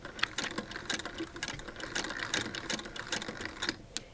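Bobbin being wound on a Singer Model 99 sewing machine converted to hand crank, its winder tire running against a yellow rubber belt, giving a close, steady mechanical whir with a light, fast ticking rattle and no talk.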